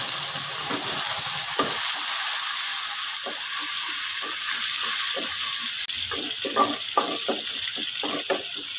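A blended chili paste for green sambal sizzles and spits in hot oil in a pan, loud and close, with a steady hiss broken by stirring scrapes and bursts of crackling.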